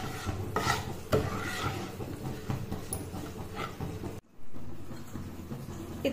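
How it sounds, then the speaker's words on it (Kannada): Mysore pak mixture being stirred steadily in a pot to break up small lumps, a continuous scraping and rubbing with a brief pause near the end, close by and alone. "ಇದನ್ನ ಚೆನ್ನಾಗಿ ಮಿಕ್ಸ್ ಮಾಡ್ತಾ ಇರಬೇಕು. ಸಣ್ಣ ಸಣ್ಣ ಗಂಟುಗಳು ಇರೋದು ಎಲ್ಲಾನು ಹೋಗ್ಬಿಡುತ್ತೆ."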